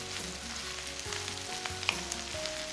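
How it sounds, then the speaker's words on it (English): Chopped onions sizzling in hot oil in a pot on a high flame, a dense continuous crackle and spatter with occasional sharper pops, close and steady, no talking. "Sounds like my oil is getting hot. I'm going to put my onions into the pot."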